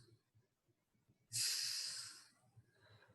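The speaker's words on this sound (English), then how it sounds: "Big exhales here" During a mat Pilates stretch on a foam roller, a single big exhale hisses out close to the mic, long and airy, over faint background sounds.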